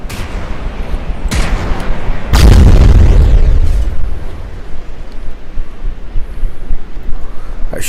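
Gunfire in a video game: a couple of sharp shots, then a loud, heavy blast that booms for over a second before fading into low rumbling noise.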